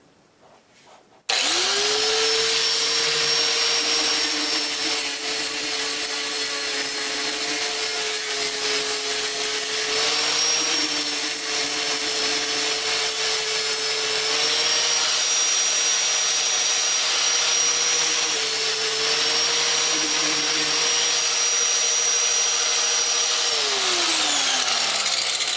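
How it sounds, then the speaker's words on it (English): Abrasive wheel grinding the welded joint of a bandsaw blade held in a fixture, a loud, steady high-pitched whine running continuously for over twenty seconds after a sudden start, with slight pitch dips and a falling spin-down at the end. "Let's see what happens with this abrasive wheel here."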